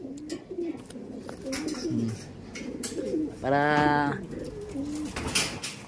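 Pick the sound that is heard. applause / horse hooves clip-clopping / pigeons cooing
pigeons cooing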